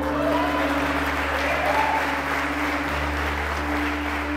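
A church congregation at an evening conference applauds together in a steady, dense wash of clapping that holds evenly for the whole stretch.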